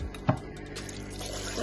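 Water poured into the bowl of a ThermoCook TC PRO M 2.0 kitchen machine while making an Indian vegetable curry, a brief close splash followed by a steady, soft trickle of liquid.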